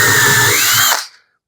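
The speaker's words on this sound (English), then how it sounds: "I chucked up a bit into my drill" A power drill whines at high speed for about a second, boring a test hole in wood, then spins down and stops, leaving silence.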